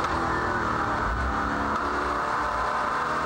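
An NZV8 touring car engine at Ruapuna roars loud and close, its note shifting and dropping as the driver downshifts on the track during a race, with no talk over it.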